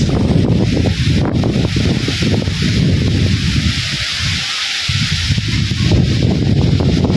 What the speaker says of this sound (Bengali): বাতাস নদীর পাড় থেকে যে বাতাস আইতাছে, সমানে বাতাস